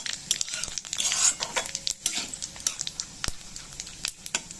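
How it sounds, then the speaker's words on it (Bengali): Bay leaves, dried red chillies and whole cumin seeds frying in hot oil for a masoor dal tempering: a bright, crackling sizzle with quick popping spits and a few utensil scrapes, and no talking. "ফোড়নটা একটু ভালো করে ভাজতে হবে।"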